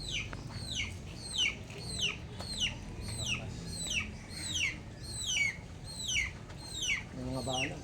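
A chicken clucks repeatedly in a steady rhythm of sharp, close calls, about a dozen in a row, over quiet background noise with a brief voice at the end.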